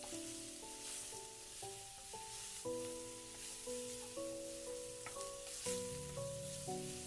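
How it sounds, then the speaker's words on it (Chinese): Diced red pepper is stir-fried with scallion and garlic in hot oil, giving a steady, close sizzle that runs throughout beneath prominent background music. "再倒入红椒丁，继续翻炒均匀。"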